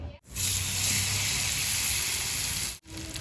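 Finely chopped ripe banana sizzles in hot ghee in a pan, a steady close hiss broken by two short gaps, with no talking.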